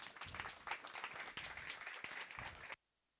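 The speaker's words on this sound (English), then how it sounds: "Big round of applause for Josef." A conference audience at Django Day Copenhagen applauds a speaker taking the stage: dense, steady clapping at moderate distance that fills the room for under three seconds, then cuts off abruptly into silence.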